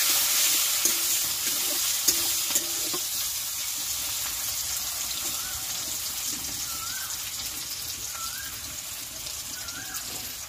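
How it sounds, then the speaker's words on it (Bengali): Bay leaf, chopped garlic and onion stir-fried for a fish-head and taro-leaf village recipe, a steady close sizzle with scraping stirs early on, fading to an even hiss. "তেজপাতা, রসুন কুচি, পেঁয়াজ কুচি দিয়ে এটাকে নাড়াচাড়া করবো।"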